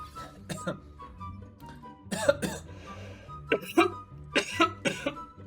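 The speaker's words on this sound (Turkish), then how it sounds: "Şu öksürüğü hala atamadım" Several harsh human coughs from someone with a cold come in short clusters, close and fairly loud, separated by quiet pauses with faint background hum.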